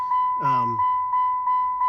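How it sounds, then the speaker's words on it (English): A Jeep's door-open warning chime dings in a steady, rapid, evenly spaced series of clear electronic tones, close and constant, while someone briefly talks over the start. "You can hear the ding of the door"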